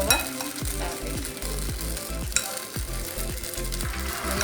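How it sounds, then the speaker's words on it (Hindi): Cauliflower florets fry in hot oil in a kadai for crispy Gobi Manchurian, with a steady close sizzle and repeated scraping strokes of a ladle against the metal, no talking. "अब इसमें हम ये गोभी के फ्लावर डाल देंगे।"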